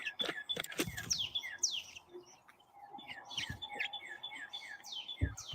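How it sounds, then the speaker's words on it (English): Various birds chirp and tweet outdoors in a busy overlapping chorus of short, high calls, fairly close, with some low thumps and background noise mixed in. "A variety of birdies."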